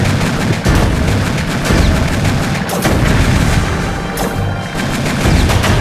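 Loud, dense combat in the video game Crazy Chicken, with repeated booming blasts and gunfire, continuous and chaotic, no pauses throughout.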